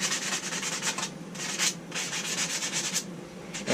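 Sandpaper scrubbing an engine gasket surface on a Predator 212 build, a steady run of short rasping back-and-forth strokes, close and moderately loud, with no talking.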